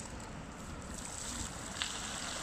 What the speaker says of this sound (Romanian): Noile fântâni.